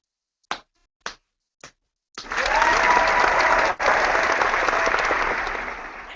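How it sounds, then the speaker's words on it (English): Three slow, separate claps, then a burst of dense applause from a group that fills the rest of the clip, loud and close and fading slightly toward the end. "Rachel, go ahead and do that slow clap again."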